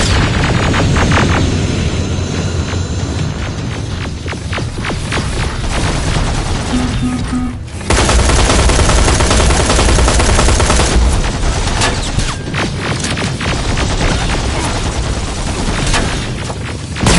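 Continuous gunfire in the game Terminator Resistance, loud rapid bursts and single shots crackling almost without pause over a dense battle din, with a brief lull before firing resumes heavily.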